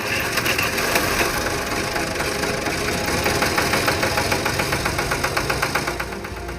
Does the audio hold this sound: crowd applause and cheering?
no